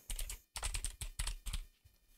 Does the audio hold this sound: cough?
no